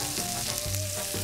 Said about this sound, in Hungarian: Ebbe a sülő zsiradékba belemegy a zöldség, megpirítom.